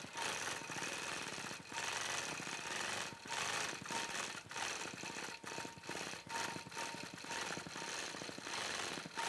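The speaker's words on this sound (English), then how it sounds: "I'm stitching in 14 stitches to the inch, just so I get a few more stitches to the inch" Longarm quilting machine stitching a holly feather at 14 stitches per inch, giving a steady, loud mechanical whir with a rapid stitching pulse. It runs continuously with brief dips at regular intervals and no talking.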